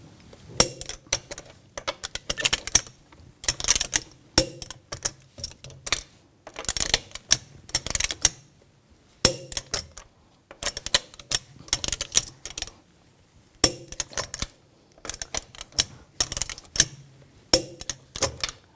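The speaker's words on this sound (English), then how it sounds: "Now we're going to torque those lug bolts to 111 foot-pounds in a cross pattern to tighten the wheel down evenly" Repeated bursts of ratcheting clicks from a torque wrench tightening the lug bolts on a 2000-2006 BMW X5 front wheel to 111 foot-pounds in a cross pattern, close and crisp, with short pauses between bolts and no talking.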